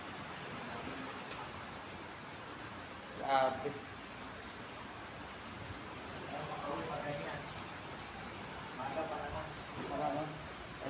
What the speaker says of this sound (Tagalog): Lakas ng ulan, grabe, super.